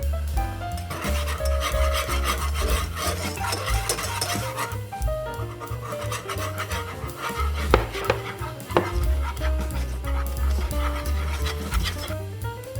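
A spoon scrapes and rubs steadily in a pot as flour is stirred into melted butter to make a béchamel roux for pastitsio, with a continuous close scraping texture and a few sharper knocks against the pan.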